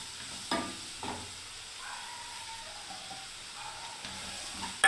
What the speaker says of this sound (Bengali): ভালো করে আবার নাড়ছি বন্ধুরা।